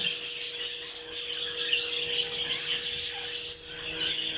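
Budgerigar chicks chirping rapidly and continuously at the nest, high thin peeps overlapping in a busy chatter, close by, with a faint steady hum underneath.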